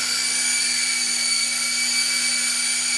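A Syma S032G RC helicopter hovers with a steady, high-pitched electric whine and constant rotor buzz, close and loud throughout with no talk.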